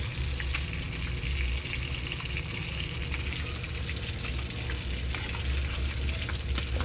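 Tuna frying in a pan with a steady, dense sizzle that runs unbroken at even loudness throughout, close by, with no talking.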